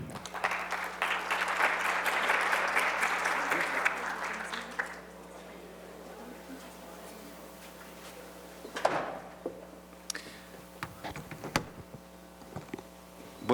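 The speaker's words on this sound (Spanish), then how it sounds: "les pido un aplauso para él" An audience at a medical symposium applauds, a dense crowd clapping that lasts about five seconds and then fades, followed by scattered knocks, rustles and handling sounds.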